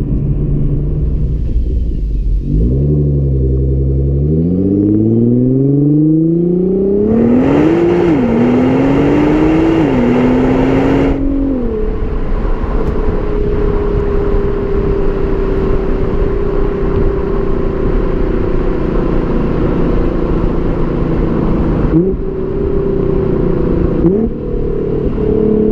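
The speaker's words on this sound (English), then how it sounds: "There's no denying the engine's performance though, it really gets up and shifts." A 2017 Nissan GT-R with an in-cabin sound enhancer, heard from inside during hard acceleration: a loud engine drone climbing in pitch through several gear shifts, then settling into a steady cruising hum.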